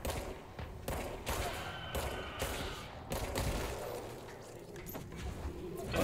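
Gunfire in the video game Control, a series of sharp shots and bursts at irregular intervals, punchy and fairly close, amid other combat noise.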